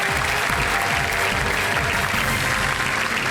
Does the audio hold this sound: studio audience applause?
yes